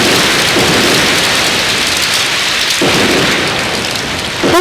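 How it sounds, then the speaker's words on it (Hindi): Heavy rain pours loudly during a storm, with rolling thunder rumbling through the downpour several times, one crack sharper near the end. "भैया अब तो तूफान आने लगा।"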